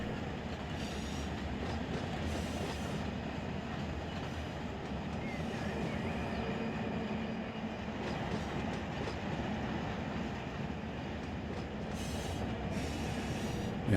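A freight train in the Run 8 Train Simulator game rumbles steadily with continuous wheel and rail noise and intermittent clicks, loud and unbroken throughout with no talk.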